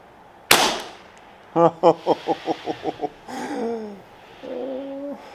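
A Tikka T1x .22LR rifle fires once with a single sharp, loud crack, followed by a string of evenly spaced chirping tones and a few softer warbling calls.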